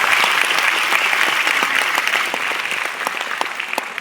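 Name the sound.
audience applause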